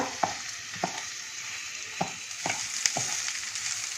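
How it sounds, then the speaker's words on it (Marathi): Rice tossed in hot oil with sautéed vegetables in a pan for masala bhat, giving a steady close sizzle broken by five or six sharp spoon scrapes spaced irregularly, with no voices. "आणि आता तांदूळ आपण 2-3 मिनिटं तेलात असं परतूया."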